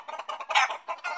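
Chickens clucking in short, throaty bursts, several quick clucks in a row, close and clear with no other sounds.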